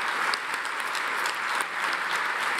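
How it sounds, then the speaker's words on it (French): Audience applause fills a hall at a foundation award ceremony in 2019, steady and dense clapping throughout with no voices over it. "Et on va les applaudir."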